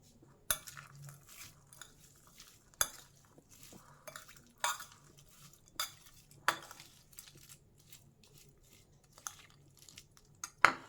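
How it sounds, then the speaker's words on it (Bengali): Tomato chaat tossed with salt in a bowl, giving a run of clinks and scrapes from a spoon against the dish, with sharper taps spaced every second or two and soft stirring between them. "এবার এটাকে ভালো করে মেশাবো যাতে ভালো করে নুনটা এদিক ওদিক লেগে যায়।"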